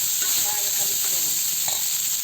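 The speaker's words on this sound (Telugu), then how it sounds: "ఇట్లా కలుపుతూ ఉండాలండి." Cooked rice with pulihora powder is stirred in a hot pan, giving a close, continuous hissing sizzle with faint scraping of the spoon through the grains.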